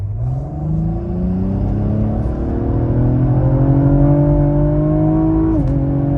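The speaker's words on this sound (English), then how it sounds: "I'm just gonna floor it and let it downshift on its own." A Cadillac ATS-V with a twin-turbo V6 pulls hard at full throttle, its engine note climbing steadily and loudly in a continuous rising roar, then briefly dropping near the end as the automatic transmission kicks down a gear before the surge resumes.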